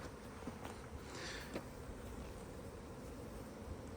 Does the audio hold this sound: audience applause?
no